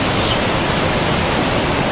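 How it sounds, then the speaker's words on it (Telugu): The Bhagirathi river at Uttarkashi rushes past in the mountains, a steady, loud, dense roar of churning water with no pauses and no voices. "వాటర్ చూడండి పరవళ్ళు తొక్కుతూ వస్తుంది"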